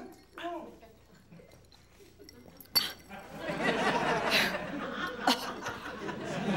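Drinking glasses clink together in a celebratory toast, a sharp ring near 2.8 seconds followed by lively overlapping chatter and laughter from a group of people.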